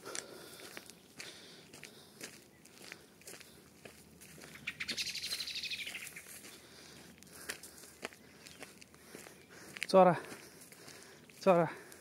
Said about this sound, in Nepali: चराहरू छन् धेरै यहाँ।